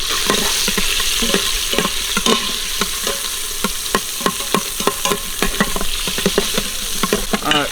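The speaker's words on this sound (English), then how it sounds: "1/4 teaspoon red chili flakes into the hot oil. Throw half this head in." Red chili flakes and roasted garlic sizzle steadily in hot oil, a continuous bright frying hiss broken by frequent sharp pops and crackles, close and fairly loud with no voices.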